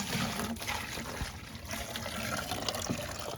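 Water trickles and splashes steadily while silt is rinsed from gold concentrate during a gold-recovery session, a close continuous wet dribble with small irregular spatters.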